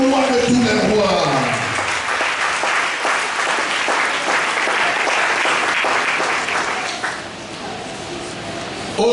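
A church congregation applauds loudly and steadily for several seconds, the clapping dense and close, briefly dipping before swelling again, with voices mixed into the crowd.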